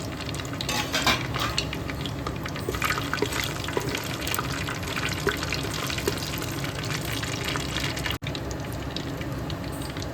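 Biryani spices frying in hot oil in a clay pot on a gas stove make a dense, continuous sizzle and crackle, close and steady throughout.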